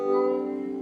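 One plucked banjo second string rings out, tuned up to C for sawmill tuning, a steady sustained note heard alone and close.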